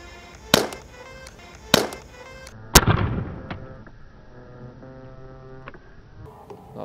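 Air pistol fired from 15 feet, three sharp isolated cracks spaced about a second apart, loud and close, over a quiet background with faint music.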